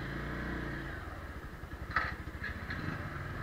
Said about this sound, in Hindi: एग्जॉस्ट साउंड भी एकदम सही है because it's a new bike.